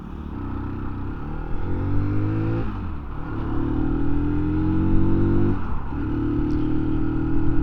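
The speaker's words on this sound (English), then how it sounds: "I'm pulling out on a cold engine straight up a hill, so it's not going to be quick." A cold-engined 2024 Mutt 125 adventure motorcycle pulls away uphill, its single engine droning loud and close as it climbs through the gears, with clear drops at each shift and no talk over it.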